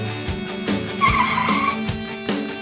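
An animated car pulls up and stops, giving a short screech of tyres over a steady engine drone, with a few thumps and a brief squeal in the middle.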